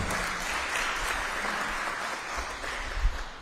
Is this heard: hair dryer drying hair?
no